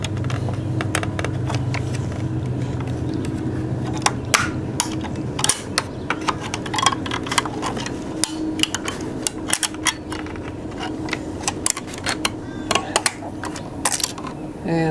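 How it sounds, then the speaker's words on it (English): A screwdriver prying a spring off the drive wheel of a Neato Botvac 80 robot vacuum, giving close, irregular clicks, scrapes and metallic ticks over a low steady hum, with no talking. "to get one of the springs away from the drive wheel takes a little bit of finesse here with a screwdriver"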